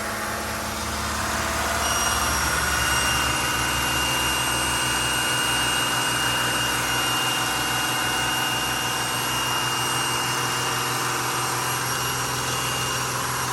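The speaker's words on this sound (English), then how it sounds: "Now the turbo is making a whining noise" A failing turbocharger on an NCV3 Mercedes Sprinter van with a P0299 boost fault, a thin, steady high-pitched whine held over a constant low engine drone, running continuously at close range with no talk.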